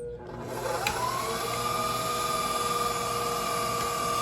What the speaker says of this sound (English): Put them in the top. Turn on the mixer.